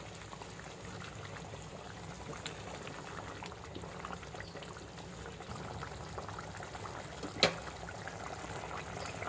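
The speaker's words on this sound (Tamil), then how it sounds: "இந்த கொதிக்கிற சத்தத்தை கேளுங்களேன், எவ்வளோ நல்லா இருக்குது." Karapodi fish gravy bubbling in a pot, a faint, steady simmering hiss with soft popping and gurgling and one brief louder pop, no voices.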